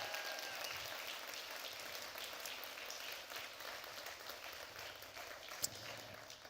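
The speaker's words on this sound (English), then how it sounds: "One more round of applause." Steady audience applause for TEDx speakers at a TEDxToronto event, fairly faint and sustained, a dense wash of clapping with a single sharp clap standing out near the end.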